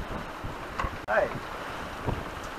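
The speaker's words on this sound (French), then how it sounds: "Il y a 18 nœuds de vent là dans la passe." An 18-knot wind rushes steadily past an open, heeling sailboat in a channel, buffeting the microphone, with a faint snatch of voice and brief creaks mid-way.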